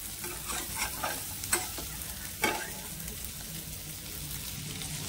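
Stuffed okra (masala bhindi) sautés in a pan with a steady background sizzle, broken by a few sharp spatula scrapes and clacks as it is stirred. No one speaks.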